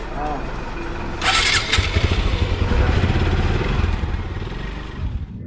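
A TARO GP motorcycle engine starts up and settles into a loud, throbbing idle close by, with a sharp burst as it catches, while voices talk over it.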